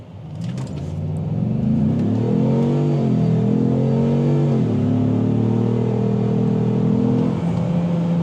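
2025 Ford Maverick Lobo pickup truck at full throttle, its engine revving loud and close, climbing in pitch, dipping briefly at a gear change midway, then pulling steadily higher again with no talking.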